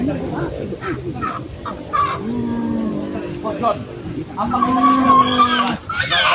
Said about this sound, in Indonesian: Tapi ada ayam ini.